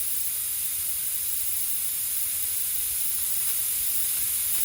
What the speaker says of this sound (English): it's going to start shooting gas out of those holes